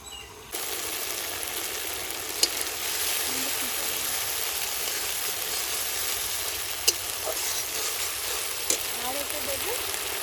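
A mixture of tomato sauce, chilli sauce, chilli vinegar and soy sauce hisses in a hot frying pan for chilli chicken, giving a loud, continuous sizzle with a few sharp pops. There is no speech over it.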